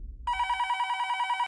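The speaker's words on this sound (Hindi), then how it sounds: "इतनी रात किसका फोन?" A telephone bell rings in a steady, continuous trill late at night in a home, loud and close, starting after a short quiet moment and cutting off abruptly.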